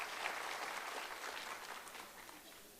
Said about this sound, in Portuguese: dar uma salva de palmas, né?